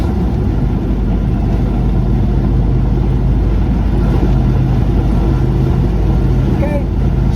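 A 1970 Chevy El Camino with a 350 V8, TH400 transmission and Gear Vendors overdrive cruises at 80 mph around 2,900 rpm. It makes a steady, loud low drone with road and wind roar, and a voice talks over it.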